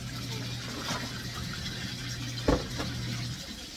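Water runs steadily into a container for a laundry wash, a continuous rushing splash with a short louder slosh near the middle, close by, with faint background hum.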